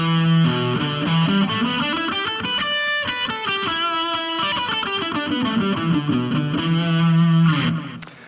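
Distorted electric guitar plays a pentatonic scale, notes climbing up and then back down, steady and loud, with no voices.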